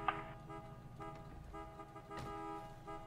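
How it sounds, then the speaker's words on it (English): A car horn honks in a GTA 5 roleplay game, a short toot at the start followed by a steady tonal horn blare that carries over low, rumbling traffic. "Enough with the horn!"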